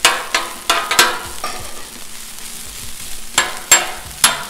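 Cold rice fries on a hot Blackstone griddle while a spatula chops into it, sharp metallic scrapes and taps landing at irregular intervals over a soft, steady sizzle.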